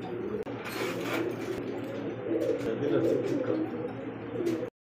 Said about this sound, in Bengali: দেখতে পাচ্ছি এখানে আরও এক জোড়া ফ্যান্ডেল কবুতর